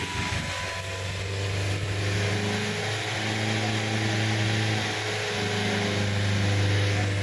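Nissan Grand Livina engine being revved during throttle body cleaning, a steady idle hum that rises and falls with throttle blips, heard close in a workshop setting with no talk.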